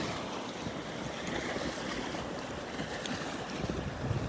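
Surf rolling onto the beach at Pawleys Island as the tide comes in, heard as a steady broad wash of waves with wind buffeting the microphone throughout, no voices.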